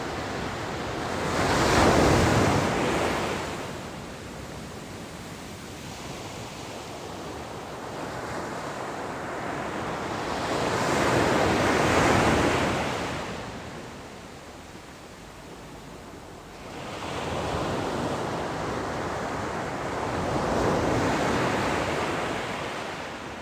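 Sea waves breaking on the beach at Ballantrae in Scotland, three slow swells of surf about ten seconds apart rising and falling in a loud continuous wash, with wind noise and no voices.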